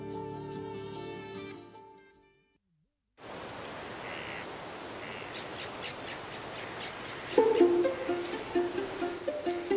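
Native forest birds of Guam singing outdoors against a steady noisy background, with faint scattered chirps followed by louder, clearer repeated calls near the end.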